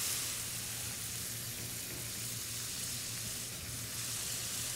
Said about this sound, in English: Then we're going to add our white wine. This is just a dry Chablis.